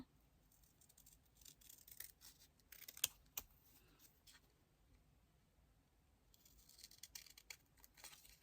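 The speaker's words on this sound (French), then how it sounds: "Je vais venir maintenant découper." Scissors snip through a small paper name label for a handmade scrapbook birth card, giving a few close, crisp cuts and rustles, quiet and without talk.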